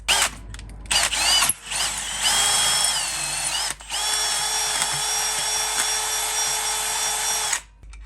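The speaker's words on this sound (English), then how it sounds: "we have to ream out the top of it with a 1/2 inch drill bit." A power drill with a half-inch bit whirs in short bursts, then runs in a long, steady high whine while reaming a part during a front drop kit install on a Chevy Silverado, before cutting off near the end.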